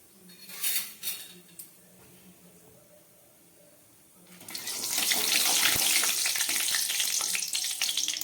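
Whole spices, cinnamon, cardamom, bay leaves and cumin, hit hot oil left from frying eggs, setting off a loud, close, steady sizzle after a few quieter clinks and taps at the start.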